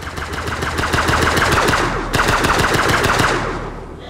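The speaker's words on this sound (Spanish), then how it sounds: "¡Una ametralladora grande!" A large machine gun in Breathedge fires long, rapid, evenly spaced bursts, loud and close with a slight echo, pausing only briefly near the middle before resuming.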